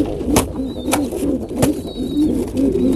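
Domestic pigeons cooing in an enclosed pigeon loft, steady overlapping low coos close by with a few short sharp sounds in between.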